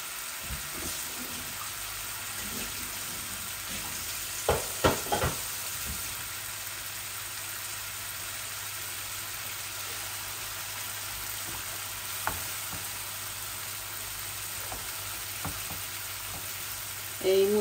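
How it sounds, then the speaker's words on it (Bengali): Tomatoes fry with spices in a cooking pot for a fish and egg curry, a continuous close sizzle broken by a few clinks and stirring scrapes. "এই মশলার সাথে টমেটো গুলাও ভুনা ভুনা হয়ে যাক।"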